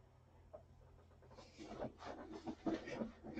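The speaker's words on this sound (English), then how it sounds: "the dog just moves by me, so you guys will probably hear her." A dog pants close by with quick, rhythmic breaths building in the second half, rising over faint low background hum with no talking.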